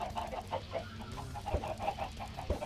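Minecraft chickens clucking in a steady run of short, close clucks, with two sharper thumps near the end and no talking.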